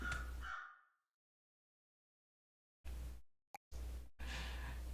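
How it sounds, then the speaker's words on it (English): Crow cawing in a ghost dating sim game, a few harsh caws separated by silence, with a brief click between them, moderately close. "I thought the crow sounds from the game were actually coming from real life"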